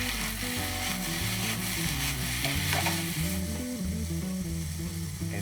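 Diced red and green peppers being stirred in a hot pan, a steady sizzle with scraping utensil strokes, close and continuous with no talking, while tonal background music plays underneath.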